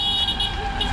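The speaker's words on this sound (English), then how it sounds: "there's some honking" Car horns honk in street traffic in India, a short burst of tooting over a steady hum of vehicles.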